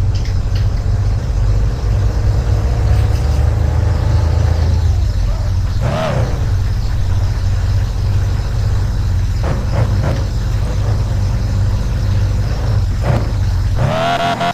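Car engine running steadily at a repair shop, a loud continuous low rumble with occasional revs and faint background activity throughout.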